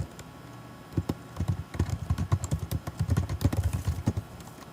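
A computer keyboard on a Mac being typed on in a steady, quick run of close, crisp key clicks that grows denser and louder as the typing continues, with no voices.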